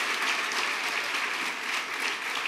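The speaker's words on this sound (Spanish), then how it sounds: "Dele fuerte el aplauso porque hay poder en el nombre de Jesús." Dense, steady applause from a church congregation fills the whole stretch, loud and close with no voices rising above it.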